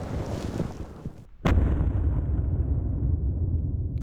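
A single loud rifle shot fired at a wild boar during a hunt in Hungary cracks sharply and is followed by a sustained outdoor rumble and background noise, with no speech.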